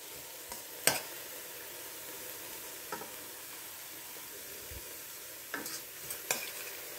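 Mustard greens sauté in a pan with a soft, steady sizzle, broken by a few light stirring clicks and scrapes, quiet and close with no talking.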